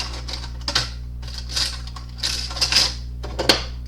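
Small metal objects clatter and clink in quick irregular bursts, like things being shuffled around in a drawer, close and fairly loud.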